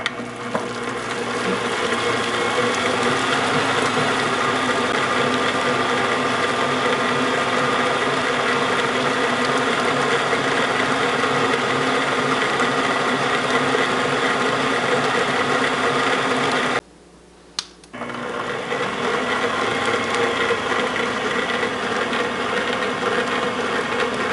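An electric stand mixer steadily whirring and grinding as it blends sweet potatoes for pie filling, loud and continuous, with a brief cut-out near the end before the motor hum resumes.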